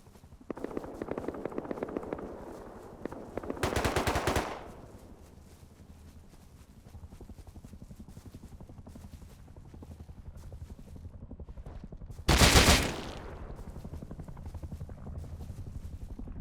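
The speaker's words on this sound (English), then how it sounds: "Did the fight move outside, or is that just a random AK?" In a video game, an AK rifle fires two short automatic bursts several seconds apart over a steady low background hum. The second burst is sharper and louder.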